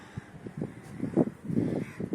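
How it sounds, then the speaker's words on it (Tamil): Several crows caw in quick, overlapping calls on a rooftop terrace garden, nearby and fairly loud, with no talking. "காக்கா பாருங்களேன் எவ்வளோ இருக்குதுன்னுப்பா"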